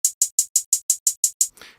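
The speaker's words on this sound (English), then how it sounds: "Most hip hop songs are going to have a hi-hat pattern that sounds like this." Nine crisp, evenly spaced hi-hat ticks in a steady rhythm, bright and close, trailing off into a short noisy tail.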